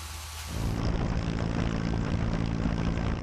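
A propeller firefighting airplane over a forest fire in Ezine, Çanakkale, Turkey roars loudly overhead, its engine drone swelling in quickly and holding steady, no voices.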